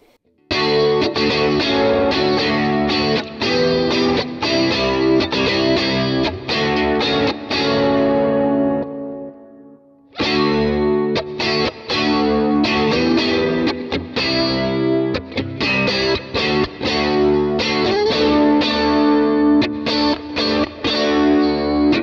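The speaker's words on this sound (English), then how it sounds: "You can hear more of the chorus come through." Electric guitar runs through a chorus effect with some drive, playing busy, continuous chord and note phrases that shimmer and swirl, with a short pause around the middle before the playing resumes just as loud.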